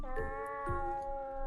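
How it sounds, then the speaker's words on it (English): A cat in the video game Angels of Death lets out two short meows about half a second apart, quiet and close over a soft sustained musical tone, with no talking. "Cat."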